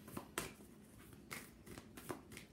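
A deck of reading cards is shuffled by hand, giving several quick riffling bursts with sharp flutters and pauses between them. The sound is close and quiet, with no speech.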